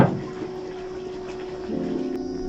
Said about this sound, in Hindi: पानी की जैसे स्पीड कम हो रही है